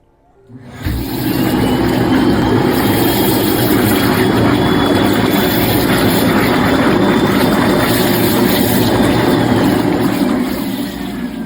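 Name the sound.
whirlpool bath jets running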